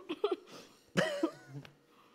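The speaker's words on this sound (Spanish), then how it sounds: "¿Tienes tos? Es que tos más rara." Short coughs from a person at a dinner after rehearsals, two quick bursts followed by a louder harsher cough with a throaty tail, close by in a quiet room.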